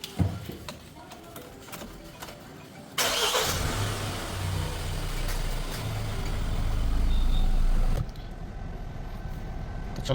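A Mahindra Thar bought in November 2023 starts up about three seconds in, giving way to a steady, close, low engine rumble that swells slightly before easing off near the end.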